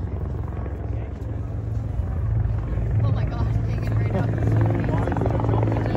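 Steady CH-146 Griffon helicopter rotor drone with a low throbbing hum, continuous and fairly loud throughout, hovering nearby during a search-and-rescue hoist demonstration at an air show.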